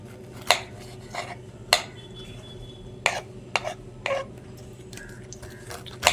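A knife cuts star fruit into pieces on a board, giving a series of sharp, quiet chopping taps spaced irregularly over a low background hum.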